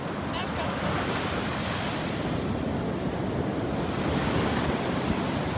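Rough surf breaks steadily along a beach in North Naples, Florida, making a loud continuous roar with wind buffeting the microphone and no talk.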